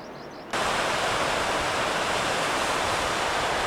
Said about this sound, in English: Looks like the creek's going over some cascades over there